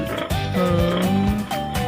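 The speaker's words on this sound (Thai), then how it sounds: "หมูหมูน้อย" Newborn piglets on a farm give several short squealing oinks in quick succession, close and fairly loud, with pitch sliding up and down and no talk over them.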